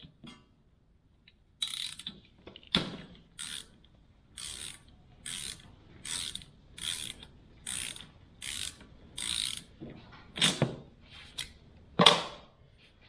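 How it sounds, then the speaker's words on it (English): A ratchet wrench with a 5/8 spark plug socket loosening a spark plug on a Toro Timemaster mower, delivering a close, loud series of rapid clicking bursts in even strokes with brief pauses, no talking. "Then I'll take a 5/8 spark plug socket"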